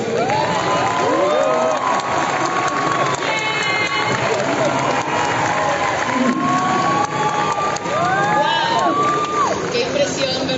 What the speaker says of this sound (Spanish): Por favor, un gran aplauso para recibirlos.